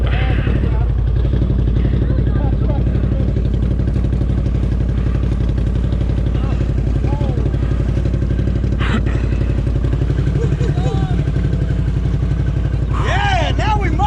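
A Can-Am off-road vehicle's engine rumbles loud and constant while mud riding, a heavy continuous drone with clanks and thumps, and voices talking over it near the end.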